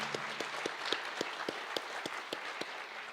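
Audience applause at a sister cities signing ceremony between the City of Longmont and the Northern Arapaho, a steady, moderately distant patter of many hands clapping together with periodic louder claps, no talk over it.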